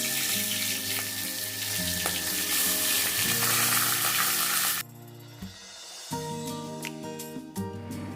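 Catla fish heads coated in turmeric and salt go into hot oil in a kadai, giving a loud, dense sizzle that drops abruptly partway, then resumes softer with clinks and crackles.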